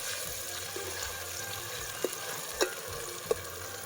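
Onion frying in a pan for a Kathiyawadi-style dish gives a steady, gentle sizzle and hiss, with a few soft clinks of stirring.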